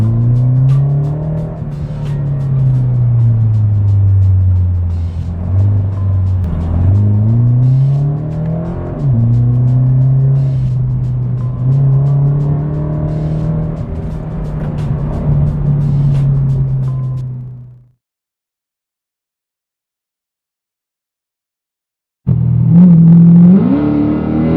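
Toyota 86 sports car driving in traffic, its engine a steady close drone that rises and falls with gentle revs, cutting out briefly before resuming loudly.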